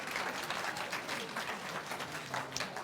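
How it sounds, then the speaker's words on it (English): Faint, distant audience applause from a festival program crowd, a steady wash of many hands clapping with a murmur of voices mixed in, heard from far back throughout. "Let's give them another round of applause."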